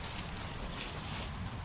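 Wind blows outdoors around a campsite where an ultralight one-person bivy tent is pitched, a constant low rumble buffeting the microphone with no talk.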